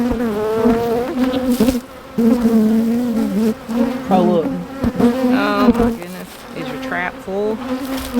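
Honeybees buzz loudly and close by during a hive inspection, a dense droning hum that rises and dips in pitch as the insects move around.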